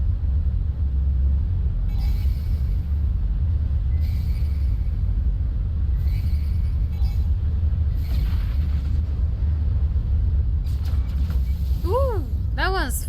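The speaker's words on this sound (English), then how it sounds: "Weather warning. Incoming storm." A storm sweeps in during the video game No Man's Sky: a steady, heavy low rumble runs throughout, with intermittent brighter bursts and short rising electronic tones near the end, loud and continuous.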